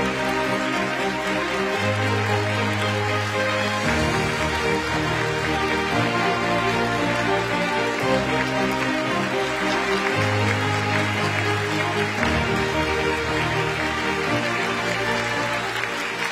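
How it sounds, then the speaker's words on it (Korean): Trainee civil service managers welcome a speaker at a lecture with continuous applause, heard beneath loud, steady music that plays throughout. "계속해서 큰 박수로 환영해 주시기 바랍니다"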